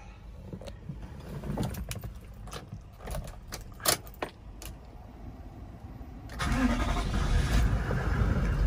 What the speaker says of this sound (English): Give the car a quick start.